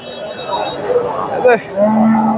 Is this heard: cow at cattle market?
yes